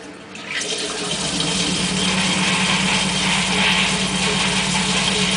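Tap water gushes into a sink and drives a small water turbine, a loud continuous rushing and splashing that starts abruptly and holds steady, with a faint mechanical whir beneath it.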